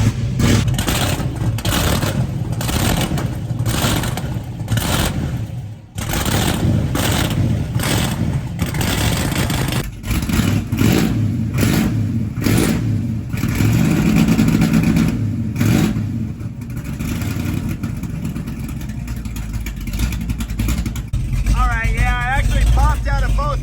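A 1963 Dodge 330 with a 426 Max Wedge engine on carburetors and race gas, cranking, catching and revving roughly while running cold, loud and close, with someone talking over stretches of it.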